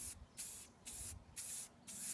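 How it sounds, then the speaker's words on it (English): Spray paint hisses onto a plutonium display case prop outdoors in a yard, four close bursts of steady hissing separated by short pauses. "So let's go take it out in the yard and spray it down."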